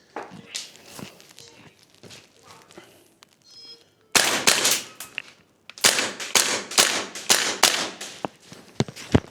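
An APFG MPX Copperhead gas blowback airsoft rifle, fitted with a tracer and a torch, fires on semi-auto: a rapid string of sharp, snappy close-range cracks after a quieter stretch of faint clicks and handling.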